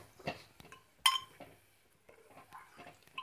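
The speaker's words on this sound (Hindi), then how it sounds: "और अब मैं इसको अच्छे से चला दे रही हूँ।" A spoon stirring coriander powder and garam masala in a pan for matar paneer: sparse, quiet metal scrapes and clinks, with one sharper clink near the middle.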